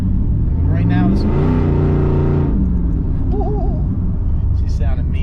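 Third-generation Chevy Camaro engine after a high-stall torque converter install, revving loud and close, rising then settling to a rough idle, with someone talking over it.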